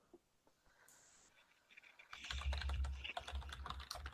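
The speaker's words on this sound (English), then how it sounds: "I hear Nathan typing." Fast typing on a computer keyboard, quiet at first and then a dense burst of rapid key clicks with an underlying low hum, no voices.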